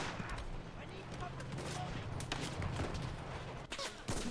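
Gunfire in the Enlisted World War II shooter game on the Alligator Creek North map, a dense run of shots and bursts packed close together over several seconds, loud and continuous with game noise, a brief lull near the end before it resumes.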